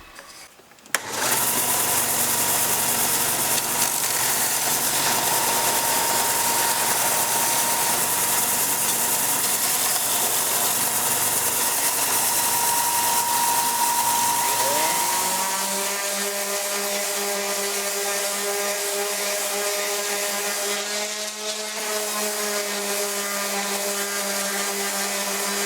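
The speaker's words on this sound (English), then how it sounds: "we're going to take this to the sander and clean that up on the sander" Power sander starting abruptly and running with a loud, steady whine while sanding a fish finder platform, its tone shifting to a lower, cleaner hum partway through as the load changes, with no talking.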